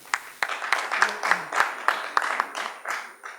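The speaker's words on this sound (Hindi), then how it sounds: "जोरदार तालियां श्री रमेश जी शर्मा के लिए।" Audience at a Hindi poetry gathering (kavi sammelan) gives a poet a round of applause: a modest scattering of distinct handclaps in an uneven rhythm, moderately loud, with no voices.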